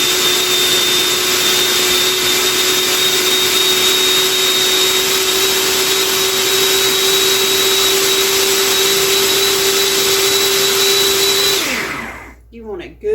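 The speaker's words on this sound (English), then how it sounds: "Now, we're going to puree the veggies." A blender purees vegetables for birria tacos with a loud, steady high-pitched whir that runs for about twelve seconds before spinning down to a stop.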